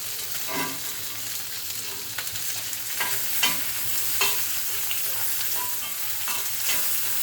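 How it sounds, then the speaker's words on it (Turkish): Peppers fry in hot oil with a dense, continuous sizzle close up, broken by repeated stirring scrapes and spatters. "Biberim de yağında güzel kavruldu"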